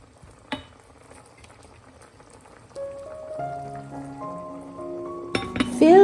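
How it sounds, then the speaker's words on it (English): Covered pot of baby potatoes and soya meat simmering in gravy over medium heat, a soft steady bubbling with light clinks of lid or utensil, growing louder toward the end. "Cover it and let simmer for about 12 minutes at medium heat."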